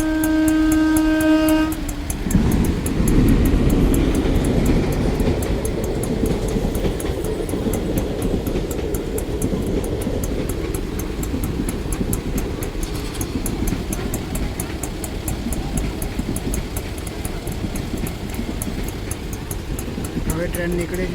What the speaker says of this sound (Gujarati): હવે ટ્રેન નીકળે છે.